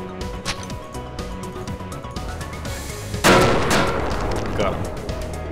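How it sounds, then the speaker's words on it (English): Gunfire and explosions from the video game Cortex Command, with sporadic shots and a loud blast partway through followed by sustained rumbling, under a player's talk. "I just shot his weapon out of his hand, apparently."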